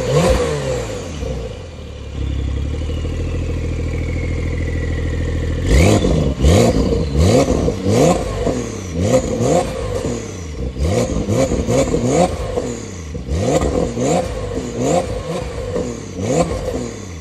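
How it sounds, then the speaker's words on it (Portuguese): A parked Porsche 911 Carrera S Cabriolet (992 generation) idles for a few seconds, then its engine revs repeatedly in loud, sharp bursts that rise and fall, close up, with no talk. "Vou deixar passando o ronco aí pra vocês."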